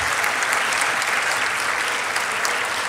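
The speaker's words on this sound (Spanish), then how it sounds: "Un aplauso, yo creo que se lo merecen todos ustedes." Applause in the chamber during a session of a state legislative congress, a dense, even burst of clapping from the deputies that holds steady from start to finish.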